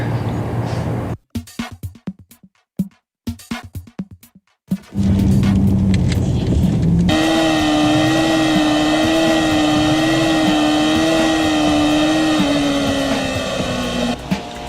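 Honda CBR 1000 and R6 sport motorcycles racing: choppy bursts of engine noise give way to a loud, sustained high-revving whine whose pitch drifts up and down before fading.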